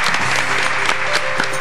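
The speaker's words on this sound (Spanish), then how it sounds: "Así que un aplauso para los dos." A studio audience on a comedy quiz show applauds the tied teams, a short burst of steady clapping with a few sharper claps standing out, backed by a low musical tone.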